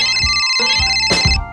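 A phone ringtone plays loud and close, a repeating electronic melody in short bursts with brief gaps, set in a street food scene at a meatball soup stall.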